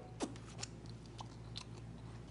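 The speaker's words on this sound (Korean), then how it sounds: "너무 바삭거려" Crunchy fried seafood, eaten at a cherry blossom festival in Gyeongju, is bitten with a sharp crack and then chewed in several soft, close crunches that trail off over a couple of seconds.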